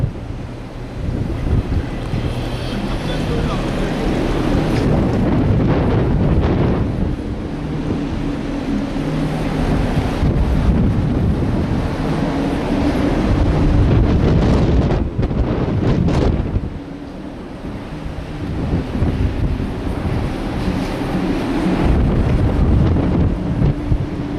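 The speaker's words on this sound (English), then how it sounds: "outside here, too windy." Strong wind at sea on the way to Antarctica buffets the microphone in a continuous heavy roar, with surf and rushing water underneath throughout.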